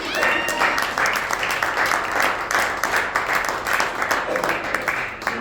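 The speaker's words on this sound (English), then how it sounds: "Big round of applause for Lily." Sustained applause from an audience at a golf club event, dense clapping that stays loud and steady throughout, with a few voices mixed in.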